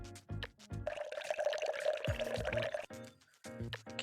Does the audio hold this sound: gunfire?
no